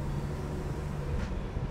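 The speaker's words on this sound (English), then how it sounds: "You can hear the turbo." A turbocharged 1986 Buick Grand National T-Top on the move, heard as a steady, full engine and road drone from inside the car, with no talk.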